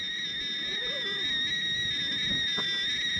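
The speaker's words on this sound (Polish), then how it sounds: "Jarek, woda gwizda." A kettle boiling water while camping gives a continuous shrill whistle, a steady high-pitched tone held throughout, with faint background noise beneath it.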